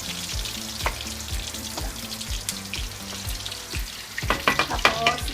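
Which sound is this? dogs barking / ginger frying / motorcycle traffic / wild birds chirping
ginger frying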